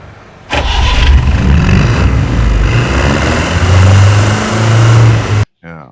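An Ambassador car engine cranks and catches in a scene from the film Shiva, then runs loud and close with a steady low rumble and revving swells for about five seconds before cutting off abruptly.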